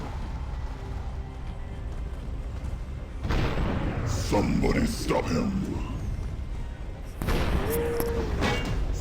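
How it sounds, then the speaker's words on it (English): Cannon fire booms during a Dark Forest tournament video game battle, with heavy dull blasts and rumbling impacts over constant battle noise while a voice speaks briefly. "So cannon fire is continuing."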